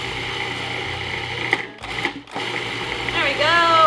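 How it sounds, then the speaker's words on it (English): A food processor chops rough-cut leeks, carrots and shallot for vegetable stock, whirring loudly in bursts with a short pause midway, its pitch sliding as the blade works through the pieces. "give the leeks a rough cut because apparently that's what the food processor likes"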